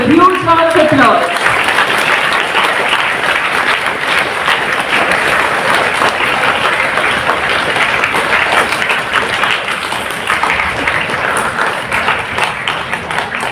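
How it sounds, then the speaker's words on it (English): Sustained audience applause at an award ceremony for Professor Meenakshi Goyal at the Teacher's Excellence Award 2024, a dense, steady wash of many hands clapping throughout, loud and continuous from start to finish. "Let's show our appreciation to Professor Meenakshi Goyal with a huge round of applause"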